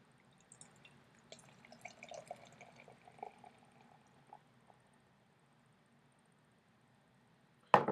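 Green Flash Palate Wrecker beer pours into a glass with a soft, quiet fizzing and trickling that builds then fades into near silence, ending in a sudden knock.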